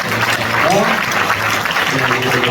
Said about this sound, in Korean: 우리 박수로 크게 축복하겠습니다.